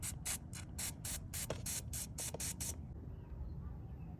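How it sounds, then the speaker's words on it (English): Rapid bursts of WD-40 aerosol spray hiss from a can onto the sliders of an Acura TL cup holder cover, about ten short puffs in quick succession, then quiet background. "we can use some lubricant like WD-40 or any penetration oil and just spray it gently on these sliders"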